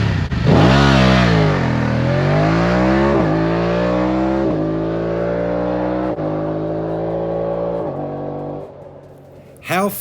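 A BMW F 900 R motorcycle engine revs hard from outside the bike, rising and falling through a string of gear-shift steps that wind up then ease off, loud and steady for several seconds before fading near the end.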